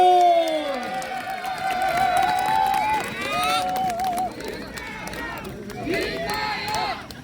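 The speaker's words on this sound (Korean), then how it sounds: "박수로 환영해 주세요" Audience at an outdoor garden culture café event in Suncheon clapping and cheering to welcome a performer, a sustained crowd roar with shouts and whistles, mixed with speech and a loud amplified voice over the top.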